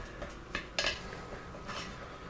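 A Reuben-style Dutch baby pancake being cut in a frying pan, with a few sharp metallic scrapes and clinks of utensil on pan, close and fairly quiet.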